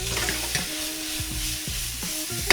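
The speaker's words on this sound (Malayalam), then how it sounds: "Minced meet. ഇതേ മീറ്റ് നല്ല ബ്രൗൺ ആയിട്ട് വന്നു കണ്ട." Minced meat seasoned with salt and taco mix browning in a hot pan, a loud continuous sizzle with a few brief spatula knocks and scrapes, close and with no voices.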